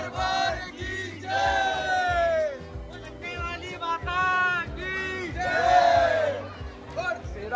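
A dense crowd queues at Jhandewalan temple in Delhi, with loud overlapping shouts and chanting cries rising and falling in bursts over a constant murmur, close and lively.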